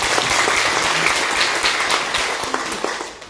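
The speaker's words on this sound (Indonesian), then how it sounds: "Tepuk tangan untuk semua." A crowd applauds at an Indonesian regional election campaign gathering, a dense wash of many hands clapping together, loud at first and slowly fading over about three seconds, with no speech on top.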